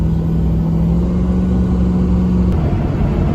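A Ford F-250 with the 6.0 Power Stroke diesel runs steadily nearby, giving a constant low rumble with a faint whine riding on top and no change in revs.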